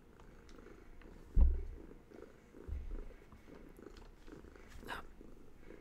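Close, soft purring from a cat named Pearl, a steady low rumble with a couple of brief thumps and faint rustling over it, no talking.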